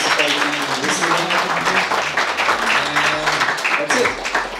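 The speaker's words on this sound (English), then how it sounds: "The round of applause for everybody, both participating and listening." Audience clapping at a tech meetup, a steady dense patter held for the whole stretch, mixed with voices and low tonal sound underneath.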